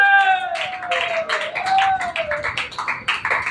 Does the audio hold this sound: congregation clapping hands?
yes